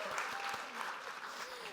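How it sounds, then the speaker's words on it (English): Conference audience at a leadership event clapping steadily, a soft, continuous patter of many hands heard from a distance, with a voice speaking faintly underneath. "Please clap louder, come on."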